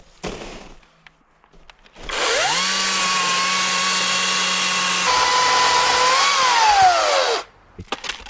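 A Harbor Freight Atlas 80V battery chainsaw spins up and cuts through wood, a loud, steady high whine held for about five seconds, its pitch sagging slightly under load, then winding down abruptly to quiet.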